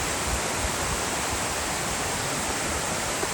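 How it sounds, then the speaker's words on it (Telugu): Ngardmau waterfall in Palau pours in a steady, dense roar of rushing water, broadband and continuous without a break, with no voices over it. "పక్కనే వాటర్ ఫాల్స్, భలే ఉంది ఫీలింగ్"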